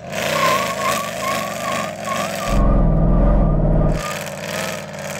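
An AMG C63 Black Series warms its tyres before a drag race, a loud engine revving with a sustained burnout roar of spinning tyres in the middle, then easing back to idle.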